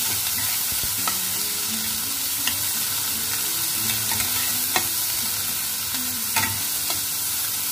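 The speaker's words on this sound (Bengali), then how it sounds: "পেঁয়াজ দিয়ে দিলাম, পেঁয়াজগুলো একটু টুকরো করে কাটা, ভাজা ভাজা করে নেবো" Chopped onions fry in a pan, a steady close sizzle broken by scattered clicks and scrapes of stirring, with a faint low hum underneath.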